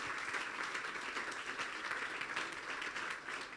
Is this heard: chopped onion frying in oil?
no